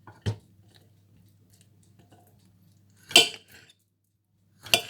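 A knife slices through a whole fresh tomato in a home kitchen, giving three short, crisp cutting sounds spaced apart against a quiet, steady low background hum.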